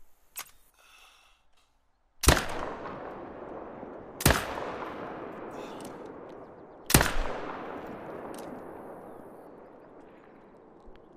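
Three .22 rifle shots ring out while hunting in The Hunter: Call of the Wild, each a sharp crack followed by a long fading echo, spaced a few seconds apart and preceded by a faint click.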